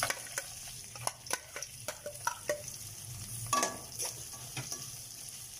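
Onions fry in oil in a pan for a bhindi pyaz (okra and onion) dish, giving a low steady sizzle broken by sharp scrapes and taps of a stirring spoon. No one speaks.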